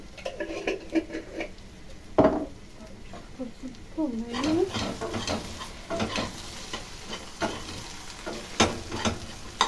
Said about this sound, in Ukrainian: Робимо маленький огонь і хай собі смажиться.